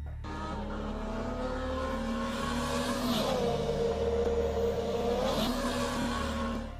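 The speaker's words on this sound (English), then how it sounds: "Two cars are on a highway doing a street race at night." Cars street racing on a highway at night roar past with engines revving hard, a sustained loud mechanical drone whose pitch rises and falls as each car sweeps by, with no voices.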